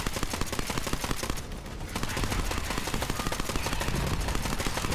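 Automatic gunfire in the Borderlands 3 video game: dense, continuous rapid bursts with a short lull near the middle, loud and close throughout.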